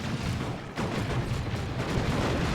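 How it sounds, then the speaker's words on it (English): An Eldar Fire Prism fires in a Dawn of War 2 battle between Space Marines and Eldar, a dense, rumbling wash of energy-weapon blasts and explosions filling the whole stretch, loud and continuous with no clear gaps. "Good shot from the Fire Prism."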